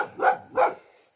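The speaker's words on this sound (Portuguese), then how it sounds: "Cachorro brabo." An angry dog by a riverside barks twice in quick succession, close and fairly loud, the two sharp woofs trailing off into quiet.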